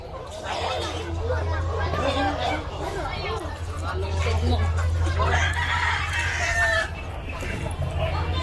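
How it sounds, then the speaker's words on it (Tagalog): Live chickens for sale at the 24-hour Carbon Market in Cebu, clucking and a rooster crowing amid busy crowd chatter and a steady low hum, with people talking nearby. "So the chickens are still here, the live chicken for sale."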